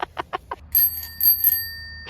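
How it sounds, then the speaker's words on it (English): A bell on a drift trike built from a Radio Flyer wagon gives a quick burst of bright metallic rings close by, its tone ringing on briefly afterward, after a few short soft knocks. "Ring the bell."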